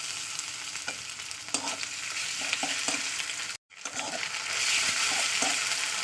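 Ginger-garlic paste frying in hot oil in a pan, a steady close sizzle with intermittent scraping stirs, broken by a brief moment of silence midway.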